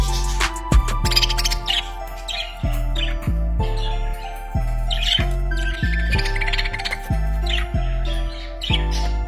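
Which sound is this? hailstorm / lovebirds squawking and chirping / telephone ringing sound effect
lovebirds squawking and chirping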